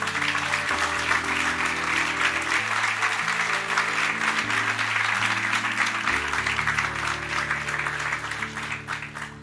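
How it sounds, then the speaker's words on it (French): A church congregation applauds during a worship service, a dense, steady wash of clapping that runs the whole length over sustained musical chords and fades slightly toward the end. "Acclamons pour les autres tabernacles."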